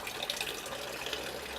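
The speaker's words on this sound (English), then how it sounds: "If I open it now, there's a delay between me opening it" A water tap opened during a bucket demonstration, with water running in a steady hiss and splash close by and no talking.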